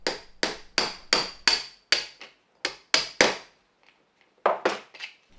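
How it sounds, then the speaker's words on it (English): A copper washer being hammered onto a rivet with a steel tool, about a dozen sharp metallic ringing strikes in quick irregular bursts with short pauses, close and loud, no talking. "The copper washer is sized so that it won't fit naturally onto the rivet, so you have to drive it home with this tool."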